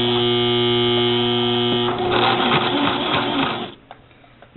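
A Brother LX3014 sewing machine runs a straight stitch around the edges of a scrap square of fabric, its steady motor hum and rapid needle clatter continuous and close, then slowing and stopping near the end.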